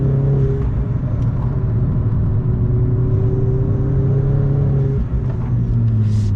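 A 2011 Opel Corsa GSI with a stage 1 turbo tune revving loudly and close, a steady engine drone that eases off near the end, where a faint pop comes through.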